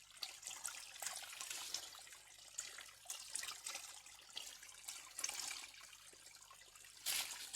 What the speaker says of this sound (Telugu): ఈ రాయి కింద నుంచి వాటర్ అయితే తేలుతున్నాయి చూడండి.